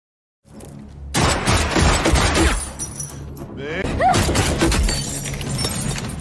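A gunfight in a film scene plays out as rapid, dense volleys of shots with loud cracks and shattering impacts, continuous after a brief quiet start, mixed with shouting voices.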